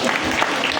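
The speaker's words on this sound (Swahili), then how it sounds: "Makofi kwa ajili ya watoto." A congregation at a church gathering claps for the children in a brief, dense burst of applause.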